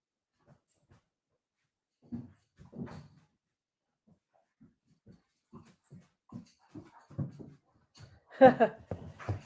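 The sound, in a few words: Great Pyrenees puppy playing tug of war with rope toy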